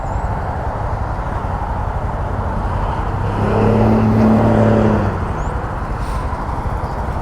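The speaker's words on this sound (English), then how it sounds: "Yep, this is all COTA traffic." Heavy road traffic streams away from the COTA race track: a continuous low roar of many vehicles, with one louder vehicle swelling close by in the middle before fading back into the steady wash.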